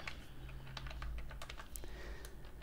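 VBA code being typed on a computer keyboard, with quick irregular key clicks close by over a faint steady hum, no voice.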